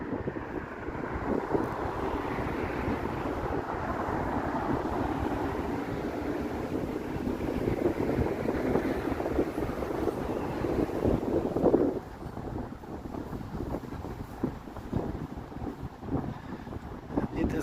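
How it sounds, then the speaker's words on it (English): Strong wind buffets the microphone outdoors on a near-freezing evening in Toronto, a steady loud rumbling roar that runs throughout, with a gust swelling around the middle, and a person talks over it. "It's windy here, very, very windy."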